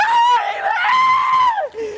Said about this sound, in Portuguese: ela se debate no chão, grita e protagoniza um verdadeiro show até finalmente ser levada presa